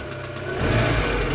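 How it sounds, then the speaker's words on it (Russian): A warmed-up VAZ 2112 car engine runs close by, a steady low idle hum that swells slightly over a second and a half, with no voices. "Так, двигатель прогрелся."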